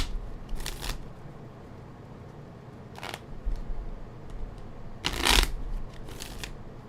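Playing cards shuffled for a card reading: several quick riffling bursts spaced a couple of seconds apart, close and crisp, with no talking.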